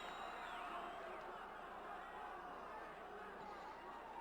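Crowd noise at a vale tudo MMA fight as one fighter moves into mount: a steady, dense roar of spectators murmuring and cheering, broad and continuous throughout with no single standout shout.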